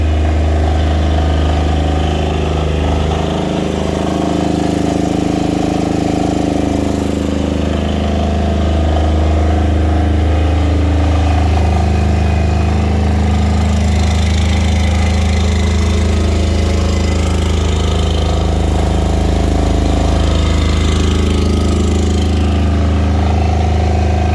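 A diesel generator, an EnerSol SCDS-8EBA in a silent enclosure, runs steadily at idle, a constant low droning hum with a mechanical rumble, close and loud, no pauses.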